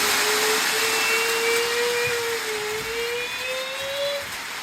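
Model railway locomotive with an open motor running, a steady whine that slowly rises and dips in pitch over a broad hiss, fairly close and alone.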